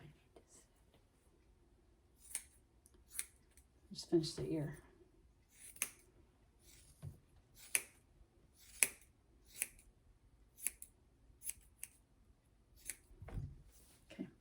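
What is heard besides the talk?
curved scissors trimming dog fur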